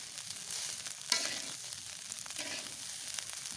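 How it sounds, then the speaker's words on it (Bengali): Rice fried in a pan for a breakfast dish, seasoned with turmeric and salt, gives a soft, steady sizzle with a brief clink and light stirring scrapes, quiet and close. "ভাত ভাজা হচ্ছে আজকে আমাদের সকালের নাস্তা।"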